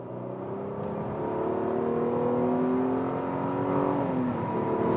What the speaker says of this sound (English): We're gonna go ahead and floor it now.